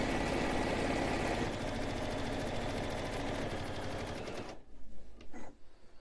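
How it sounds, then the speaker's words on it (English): A sewing machine runs at speed for about four and a half seconds, stitching a seam through several fabric layers of a Christmas stocking with a fast, steady mechanical whir. It then stops abruptly, leaving a few soft handling knocks. "your machine might have a stitch on it that secures the start of that seam"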